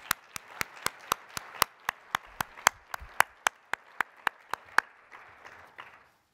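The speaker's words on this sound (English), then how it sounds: "Please join me in a round of applause for these volunteers." Applause for volunteers at a volunteer recognition ceremony: a few people clapping in a slow, evenly spaced rhythm of about twenty crisp, close claps, trailing off into quiet.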